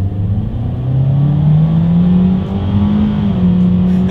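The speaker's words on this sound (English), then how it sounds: "let's see how quickly we can get our new 2022 Kona here up to speed" A 2022 Hyundai Kona accelerates hard from a standstill in sport mode, its engine note droning and climbing steadily in pitch, loud and close throughout.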